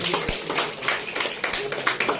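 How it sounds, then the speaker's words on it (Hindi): Wedding guests clap at a restaurant ceremony as the groom's mother is welcomed with a garland, a dense crackle of many hands in quick overlapping bursts, with voices mixed in. "भाई एक बार दिल खोलकर तालियां बजाइए।"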